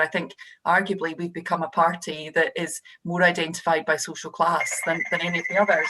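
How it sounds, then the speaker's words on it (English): A telephone starts ringing near the end, a steady electronic tone that rises under continuous close-up speech from someone talking politics. "Oh, sorry, that's my phone."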